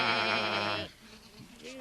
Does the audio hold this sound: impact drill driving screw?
no